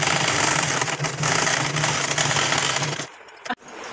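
A sewing machine runs steadily, stitching fabric for a circular umbrella plazo, with a dense, continuous whir for about three seconds before stopping, followed by a quieter pause and a single sharp clack.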